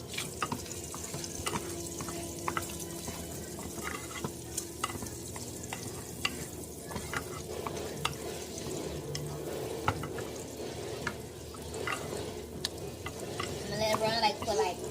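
Bacon and Brussels sprouts frying in a pan: a steady soft sizzle with occasional scrapes and stirring, faint and close, while a tap runs in the background and no one speaks.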